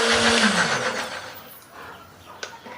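A blender grinds curly chili, turmeric and garlic with a little water into a paste, a loud, dense whir at the start that fades to a quieter, steadier grind.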